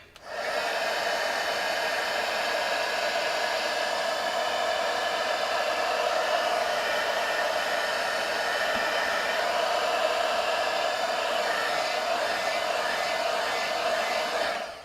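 A handheld heat tool heat-sets a craft project, giving a steady, loud blowing whir that runs without a break for about fifteen seconds and then stops.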